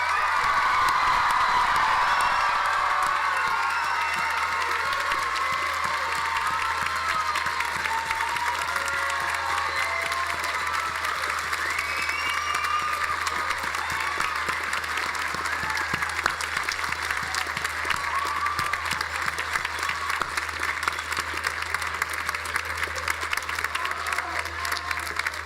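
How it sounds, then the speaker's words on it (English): A commencement audience at Northern Vermont University Johnson applauds its graduating class of 2023, sustained dense clapping from a large crowd with scattered cheers and whoops, steady throughout. "Join me in applauding the achievements of our new graduates."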